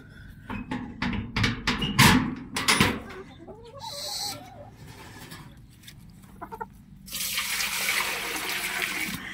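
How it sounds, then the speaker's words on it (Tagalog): Water is poured out at a small farm where chickens are fed. Clucking and scratching from the birds fill the first part, then a loud, close, steady rush of pouring water runs through the final seconds. "Lagay po tayo ng tubig."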